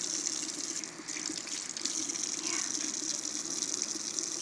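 Water runs steadily from a tap to rinse shampooed hair, a continuous close gushing wash with no pause and no talk over it.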